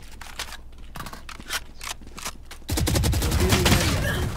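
Rapid automatic fire from an Odin machine gun in Valorant, a loud, dense burst that breaks in suddenly after quieter scattered game sounds and continues to the end.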